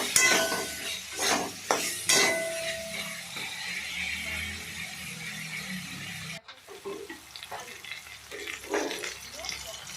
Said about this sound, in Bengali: এরপরে তাকে ভালোভাবে নাড়াচাড়া করলাম।